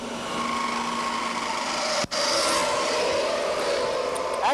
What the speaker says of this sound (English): The belt's loose. We took the belt off last night and stretched it.